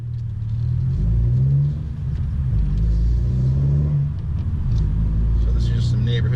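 Low, droning exhaust of a 2017 Honda Civic with a catless downpipe and muffler delete while cruising through a neighborhood at about 25 mph, a steady rumble with mild swells as the throttle shifts, recorded from inside the car.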